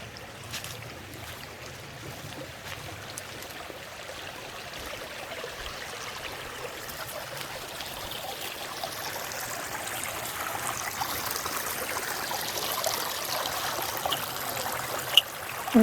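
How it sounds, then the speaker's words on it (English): Agua Caliente Creek flowing beside the Pacific Crest Trail, a soft steady rush and trickle of water heard from a short distance, faint and continuous, gradually growing a little louder toward the end. "creek is just to my left. You can probably hear it down there."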